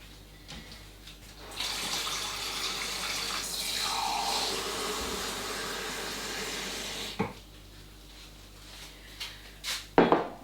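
A kitchen tap runs cold water in a steady, hissing stream for several seconds before it shuts off, followed by a few light clinks nearby.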